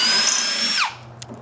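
A RIDGID Gen5X brushless compact hammer drill bores into wood with a steady high whine for most of a second, then winds down quickly as the motor stops, and a faint click follows.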